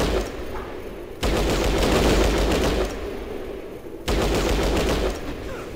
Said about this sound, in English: Not towards the gunfire,